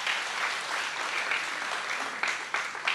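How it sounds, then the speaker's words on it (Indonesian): Church congregation clapping loudly together during a sermon, a steady wash of many hands with a few sharper accents near the end and no speech over it. "Bangkit berdiri, tepuk tangan yang keras buat Tuhan."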